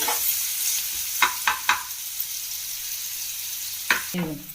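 Finely chopped green chilies and onions fry lightly in a pan for pav bhaji under a soft steady sizzle, broken by a few sharp knocks and scrapes of a stirring spoon, close by.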